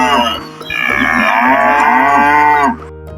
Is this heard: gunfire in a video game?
no